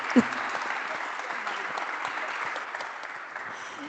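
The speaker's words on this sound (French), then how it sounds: "Je vous propose qu'on vous applaudisse très fort en salle pour qu'on vous entende" An audience claps loudly in a hall at an anniversary celebration, a dense, sustained burst of applause from a crowd, opening with one sharp clap and staying steady to the end.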